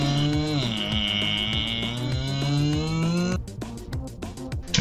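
A matte blue sports car in GTA 6: its engine drones in a sustained, rising, harmonic whine, then drops into choppier revving near the end, loud and close with no talking.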